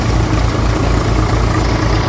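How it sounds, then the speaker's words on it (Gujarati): An Eicher tractor's diesel engine idles steadily nearby at 1200 RPM, a loud low chugging with an even rapid pulse and no change in pace. "1200 RPM ઉપર ટ્રેક્ટર ચાલુ છે"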